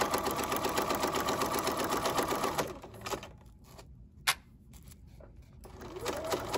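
A sewing machine runs steadily forward along the side of a drawstring bag, a close rhythmic whir that stops partway through, followed by quiet handling sounds and a brief click.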